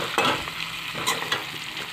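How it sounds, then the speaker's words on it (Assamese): Pieces of fried meat stirred around in a hot pan, continuous sizzling broken by scraping stir strokes at an uneven rhythm, close and fairly loud with no voices. "মাংসখিনি ইয়াত দি অকণমান দেৰি এনেকৈ লৰাই দিওঁ"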